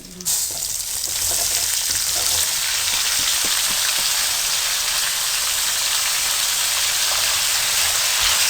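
Potato pieces fry in a pan for egg potato bhujia, a loud close sizzle that bursts in after a brief quiet start and then crackles on steadily without let-up or voices.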